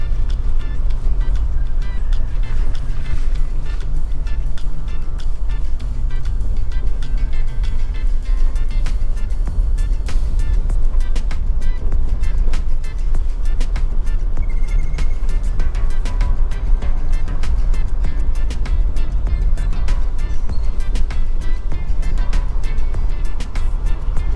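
A car drives along roads in Mandeville, Manchester, from McKinley Rd to Wint Rd, with a loud, steady low engine and road rumble close by and the hum of tyres on tarmac continuing throughout.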